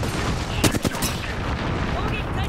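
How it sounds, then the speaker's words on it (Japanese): Sharp bursts of gunfire in Apex Legends crack out in a quick cluster, then a steady rumbling din of distant shooting outside and background noise continues. "なんか外の銃声すごいな"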